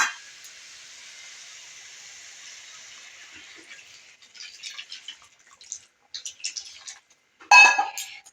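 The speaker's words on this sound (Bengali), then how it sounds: "এবার আমি জলটা দিলাম" Water is poured into a cooking pan of fried spice paste and potatoes, giving a steady hiss that gives way to a few light clinks and drips near the end.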